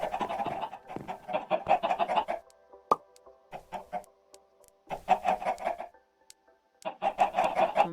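Chickens in the Minecraft video game cluck in quick repeated bursts, loud and close, broken by short silences and a single sharp click.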